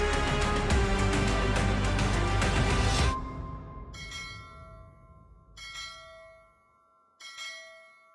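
Bells ring out in a dense, loud peal that stops sharply at three seconds, then fainter separate bell strikes sound in spaced bursts over a fading, echoing tail.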